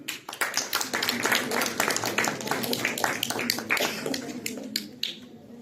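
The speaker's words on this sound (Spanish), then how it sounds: "Un aplauso para Cruz Telles Nadia Fernanda." An audience at a nutrition and emotional health congress claps steadily for the whole stretch, with sharp, close individual claps over a broad wash of applause and a low voice underneath.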